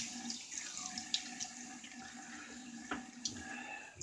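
Tap water runs quietly into a sink while the face is wetted before a shave, a faint, steady trickle with small splashes and clinks.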